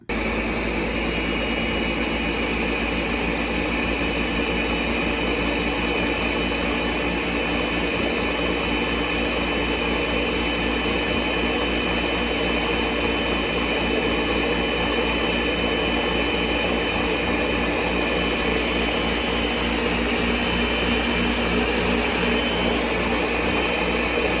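A blender runs continuously, mixing hummus or chocolate pudding ingredients seasoned with salt and cinnamon, a loud steady motor whir with a dense, unchanging roar throughout.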